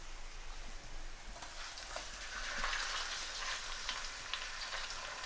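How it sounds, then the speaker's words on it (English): Golden onions and tomatoes frying in a pan, a dense, even sizzle like light rain with a few faint stirring taps, fairly quiet and without talk. "the onions are nice and golden now, so I'm going to add tomatoes to the pan as well"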